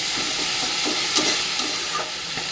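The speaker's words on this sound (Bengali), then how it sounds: "ভালো করে মশলাটা কষাতে দেবো মানে ভালো করে যাতে কষে যায়" A spice masala with cumin, a little water and a pinch of sugar cooks in a pan, giving a loud, steady sizzle and hiss with faint scraping of a spoon stirring underneath.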